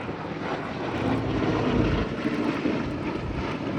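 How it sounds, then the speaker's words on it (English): Sally B, a vintage propeller aircraft, flies past trailing display smoke at the Abingdon Air & Country Show at Dalton Barracks, a broad droning engine roar that swells to a peak midway and then eases slightly. "here we see the aircraft flying past with smoke on to simulate a damaged engine"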